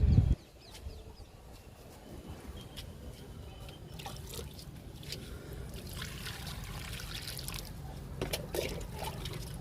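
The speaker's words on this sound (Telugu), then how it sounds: "గన్నేరు మొక్కకి వాటర్ ఇచ్చేద్దాము" Water trickles and splashes steadily onto soil around a newly planted oleander, a soft continuous pour with a few faint clucks from poultry in the background.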